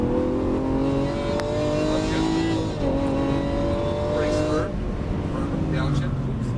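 A Lamborghini Aventador on a race track, its engine droning and rising in pitch as it accelerates, then easing and climbing again, loud and close from inside the car with faint tire noise.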